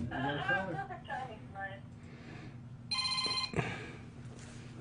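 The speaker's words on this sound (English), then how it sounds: "My phone's ringing." A phone rings with a bright repeating electronic tone in two short bursts, heard after and between people talking on a live show.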